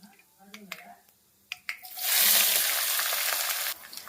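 Sliced onions and green chillies hit hot oil in a pan after a few light clicks, then a loud, close sizzle swells and holds for about two seconds before cutting off.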